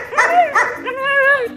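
Young puppies bark and whimper during a protection bite work class, close and loud, a pair of sharp yips followed by a longer drawn-out whining bark.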